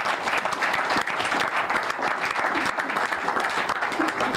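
A crowd claps steadily for several seconds, dense and continuous applause filling the room.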